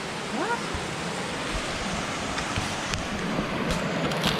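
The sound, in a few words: waterfall water gushing, Finch Hatton Gorge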